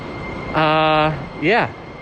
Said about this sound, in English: thanks Metro Transit, light rail behind me